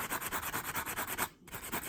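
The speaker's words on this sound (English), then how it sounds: "remove as much of the scratch as we can using this sanding block" Rapid back-and-forth rubbing of a sanding block on a watch to remove scratches, an even rhythmic scratchy hiss with a brief pause partway through.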